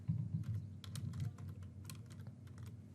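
Keys clatter on a computer keyboard as an email address is typed in a quick run of light, close clicks, with no voices.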